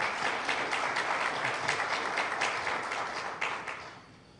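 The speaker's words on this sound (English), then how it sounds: "So for that, we must give him a round of applause." Applause from the audience at a news conference for a Philippines–Canada visiting forces agreement signing, a moderate burst of clapping that holds briefly and then fades away toward the end.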